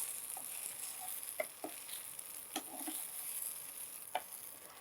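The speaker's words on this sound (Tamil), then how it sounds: "இது எல்லாத்தையும் சேர்த்து நல்லா மிக்சிங் கொடுத்துடலாம்" A spoon stirs idli pieces with drumstick idli podi in a pan, making soft scattered clinks and taps over a faint, steady sizzle, with no talking.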